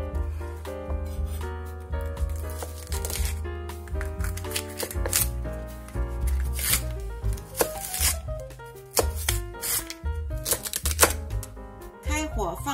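A knife chops cleaned leeks on a cutting board in a series of quick, irregular taps, partly buried under steady background music.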